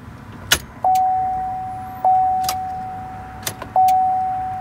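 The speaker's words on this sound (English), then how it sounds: "I'm going to go ahead and try to give the truck a start." Starting a Chevrolet Silverado or GMC Sierra pickup brings three repeated electronic chimes, each a steady tone that fades, with sharp clicks and key-like taps between them, and the engine never turns over.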